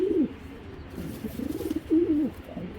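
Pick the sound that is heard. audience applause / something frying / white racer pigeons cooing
white racer pigeons cooing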